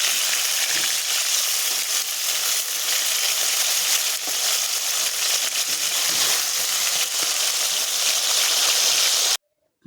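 Soft dogra fish frying in oil in a wok, giving a loud, steady, close sizzle that runs unbroken for about nine seconds and then cuts off abruptly.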